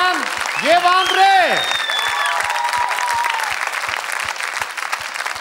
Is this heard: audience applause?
yes